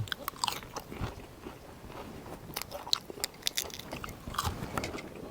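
Someone close up bites and chews a crunchy crab dish, giving irregular crisp cracks and crunches with wet chewing in between, fairly quiet overall.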